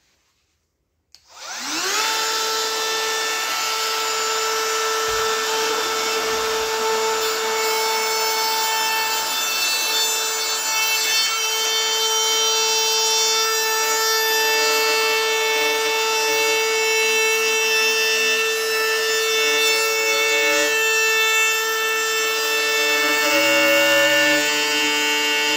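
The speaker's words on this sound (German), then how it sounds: "Ich werde mal versuchen, hier vielleicht zum Beispiel eine 8 rein zu fräsen," A Metabo FMV 18 LTX BL 8 cordless trim router with a plunge base starts up and cuts a figure eight into wood, a loud, steady high whine that holds alone for over twenty seconds.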